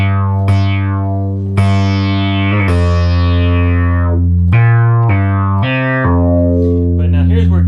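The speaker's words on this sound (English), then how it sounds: "You'll notice it has a lot more power, a lot more of that Moog style" A Moog/Realistic MG-1 synthesizer plays loud, buzzy sustained notes with its filter wide open, each attack sweeping bright then settling, a sequence of several stepped pitches with a rapid wobble at the end.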